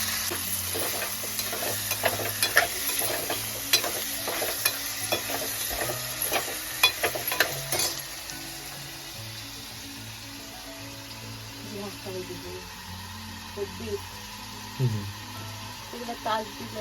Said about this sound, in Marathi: तर यात तेल टोमॅटो आणि कांदो थोडा वेळ गरम झाल्यावर या बोकडाचा मटण टाकला